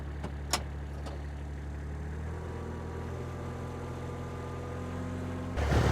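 A backhoe's diesel engine runs steadily as it is driven, a low continuous rumble with a couple of brief clicks early on and a louder surge at the very end.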